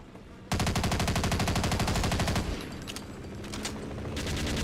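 Rapid machine-gun fire from the video game Brutal Half-Life, a loud, steady stream of evenly spaced shots lasting about two seconds, then scattered further bursts over a noisy background.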